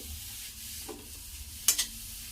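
Grated carrots sauté in ghee for carrot halwa, a soft low sizzle with gentle stirring and two sharp utensil clinks near the end.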